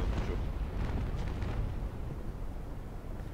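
Heavy, rumbling cannon broadside from a sailing warship in the Naval Action game, a dense continuous barrage of booms rolling on for several seconds, loud and close.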